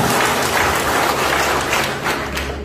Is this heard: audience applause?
yes